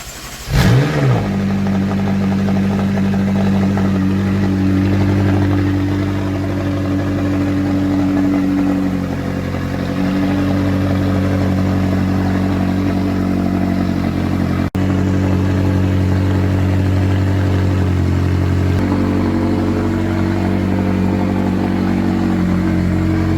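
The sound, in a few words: McLaren 675LT Spider supercar engine starting and revving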